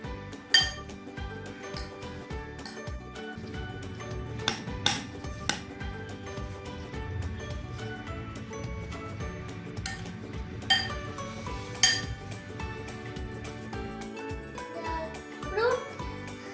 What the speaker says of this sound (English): so let's mix it a little bit more